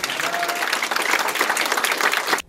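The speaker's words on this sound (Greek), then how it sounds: "Κάποιοι απλά χειροκρότησαν." Audience applause at a graduation oath ceremony at the TEI of Western Greece, a dense, steady wash of many hands clapping close by that cuts off abruptly at the end.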